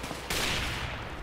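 Burst of gunfire in Counter-Strike: Global Offensive, a loud sudden rattle of shots that starts abruptly partway through and stays dense and noisy to the end, with no talking over it.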